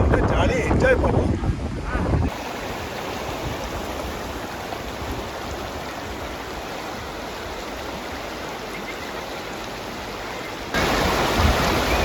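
The fast-flowing Bhavani river rushes in a steady broadband roar close by, with heavy wind buffeting at the start and end.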